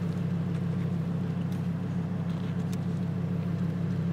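A Lamborghini engine rumbles steadily through its exhaust, a close, continuous low drone with no breaks or revving.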